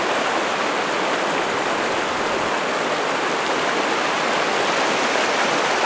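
A steady, full rush of flowing stream water, close and constant, with no talking over it.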